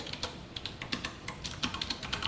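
Close typing on a computer keyboard while entering code in a web design class: a quick, uneven run of crisp keystroke clicks with no talking.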